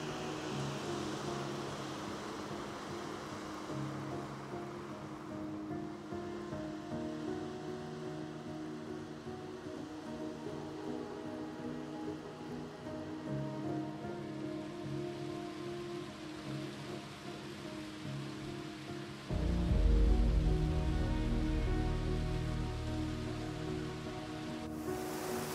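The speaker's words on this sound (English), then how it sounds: "Look at this magnificent waterfall." A continuous roar of a waterfall in the Scottish wilderness, steady and broad like heavy rain, growing louder and deeper near the end.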